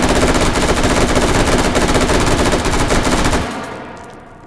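Rapid automatic gunfire at targets in the video game Hot Dogs, Horseshoes and Hand Grenades, a loud, close, continuous burst of evenly spaced shots that stops abruptly near the end, leaving a short fading ring.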